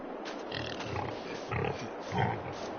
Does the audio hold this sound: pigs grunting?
yes